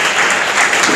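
An audience at an award ceremony for a school confidence-building program claps in a brief, dense burst of applause with no pauses.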